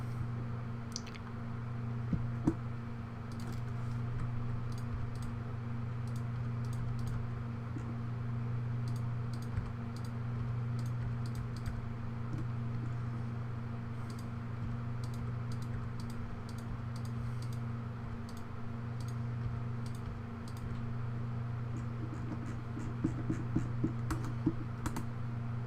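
Computer keyboard typing during code editing, a steady stream of light key clicks over a constant low hum, with denser bursts near the end and no talking.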